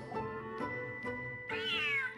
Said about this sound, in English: Oh no! A big ferocious cat!